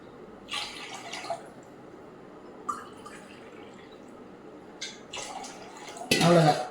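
Three cups of water go into a cooking pot for black urad dal kali before the stove is lit, with faint trickles and splashes followed by a louder, close pour near the end.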